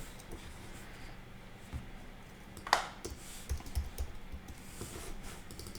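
A computer keyboard is typed on at close range while entering a file name, with soft scattered key taps and one brief flurry of clicks, no voices.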